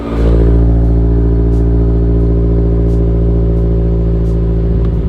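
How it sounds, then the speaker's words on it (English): A MazdaSpeed 3 engine on a cold start idles loud and close, a steady deep rumble with mechanical clatter and faint periodic ticks running throughout. "Let's get some of that cold start."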